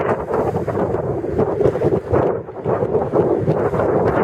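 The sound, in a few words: strong wind blowing on microphone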